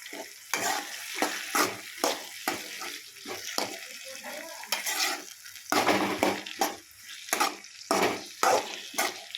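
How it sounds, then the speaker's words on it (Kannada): Eggplant sizzles in a hot pan while a spatula repeatedly scrapes and stirs, giving quick rhythmic clatter bursts over a steady frying hiss. "ಬದನೆಕಾಯಿ ನಂತರ ಅದನ್ನು ಚೆನ್ನಾಗಿ ಫ್ರೈ ಮಾಡಿಕೊಂಡು"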